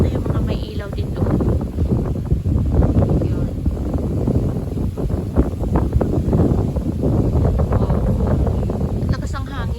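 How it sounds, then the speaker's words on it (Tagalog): Strong, cold wind buffets the microphone at night in Batangas, Philippines, in a steady, roaring rush, with a voice speaking briefly over the noise. "So, sobrang lakas ng hangin, malamig."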